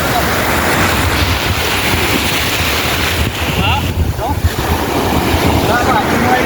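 Ocean waves at Marina Beach in Chennai roll and wash in a constant loud roar, mixed with heavy wind buffeting the microphone.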